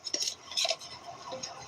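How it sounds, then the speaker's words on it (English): A small metal camping frying pan and pot clink lightly a few times, soft and close, in a quiet setting. "little frying pan and a pot"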